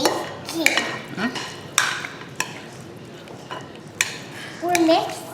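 A toddler stirs egg salad in a bowl, spoon clinking and scraping against it in irregular bursts, with a child and adults chatting over the mixing.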